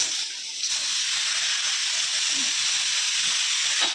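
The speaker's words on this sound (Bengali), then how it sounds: "ডালের বড়া ভাজা চলছে," Lentil fritters frying in oil give a steady, close hiss of sizzling that holds evenly for the whole stretch, with no voices over it.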